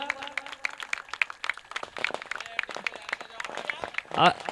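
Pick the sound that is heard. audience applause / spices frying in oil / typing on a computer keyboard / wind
audience applause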